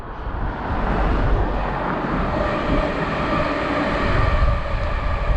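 Train passing on an active railway line beside disused sidings near Mottram, a continuous heavy rumble and roar that rises quickly and stays loud and close through the whole stretch.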